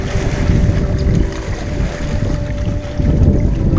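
Strong wind buffets the microphone on a bank while fishing, a loud, constant roar with gusty surges and a faint wash of water beneath, no one speaking.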